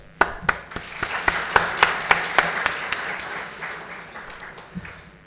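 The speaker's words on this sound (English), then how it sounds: "Please, a huge round of applause." Rhythmic clapping at a steady beat at a conference inaugural ceremony, each clap sharp and distinct over a softer bed of scattered applause that fades toward the end.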